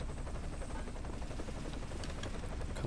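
A helicopter in the online shooter game Arctic Combat, its rotor thumping as a rapid, steady low chop under faint rattling gunfire, fairly quiet and continuous.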